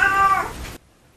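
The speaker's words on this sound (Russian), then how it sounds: "Кличку белого медведя носит кот Трамхайлис Слепнер Аф Марингейм." Cat meowing once, a loud, close, drawn-out cry that stops abruptly into silence.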